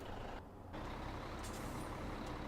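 A truck in the farming game Farming Simulator 17 gives a brief air-brake hiss and release over a steady engine rumble, the sound dipping for a moment and then returning at a constant level.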